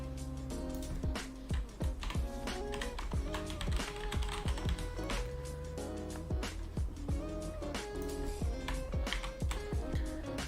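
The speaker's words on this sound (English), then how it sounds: "I'm really bad at typing for some reason." Typing on a computer keyboard, close and fairly quiet, with irregular bursts of sharp key taps and brief pauses between them throughout, no talk.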